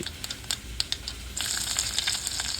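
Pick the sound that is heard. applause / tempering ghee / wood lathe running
tempering ghee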